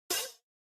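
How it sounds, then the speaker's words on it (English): One open hi-hat strike from a Native Instruments Maschine with a swirling flanger sweep, a bright metallic wash that fades out in under half a second, alone. "And then with the flanger, it sounds like this here."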